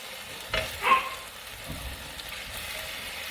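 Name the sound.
steak frying in skillet, stirred with mix and chop spatula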